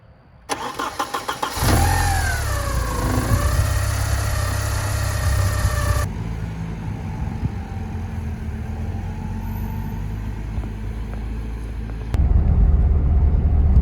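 A Porsche 924S engine cranks and catches, then revs and settles into a deep, steady rumble heard up close from inside the car on a test drive, with a brief louder surge near the end.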